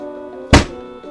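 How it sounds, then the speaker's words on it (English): A single dull thunk of a head hitting a desk, one short close impact standing out over a low steady background hum. "that was the sound of my head hitting the desk"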